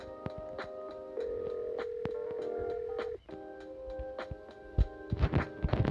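Phone dialing 666 in a video game, a quiet series of short tonal beeps and clicks with sustained dial tones, fairly faint, no talk.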